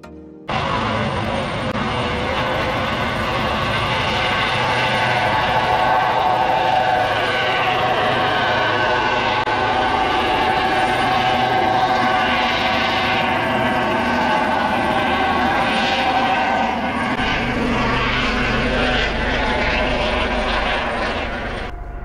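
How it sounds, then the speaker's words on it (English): Helicopter flying over a Siberian husky kennel, a loud continuous rotor and engine roar that holds steady throughout, broadband and close, with a deep low rumble building near the end. "And every time Qira is so scared of the sound of the helicopters"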